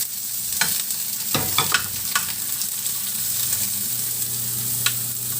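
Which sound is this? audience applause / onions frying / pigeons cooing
onions frying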